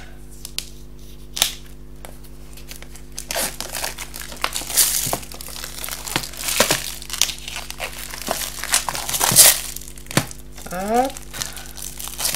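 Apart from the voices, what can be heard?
plastic packaging being removed with a cutter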